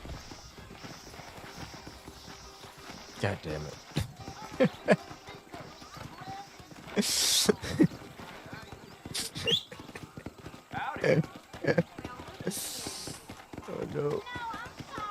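Horse hooves clip-clop and gallop in the Western video game Red Dead Redemption, uneven bursts of hoofbeats running through the clip with someone talking and exclaiming over them.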